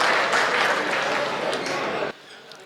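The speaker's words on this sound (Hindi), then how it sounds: "एक बार जोरदार ताली बजा दो आप।" An audience at a Hindi poetry stage event bursts into dense, loud applause that carries on for about two seconds before cutting off abruptly.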